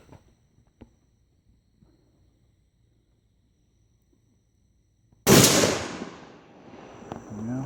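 A rifle shot sets off a Tannerite explosive target, a single loud, sharp blast after several seconds of near silence, then a long rolling rumble that fades and swells outdoors.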